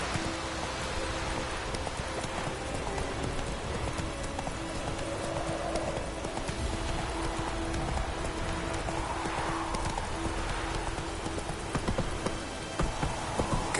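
Roach the horse trots in the video game Witcher 3, a steady stream of rhythmic clip-clop hoofbeats against a continuous rain-like ambient hiss, moderately close and without pause.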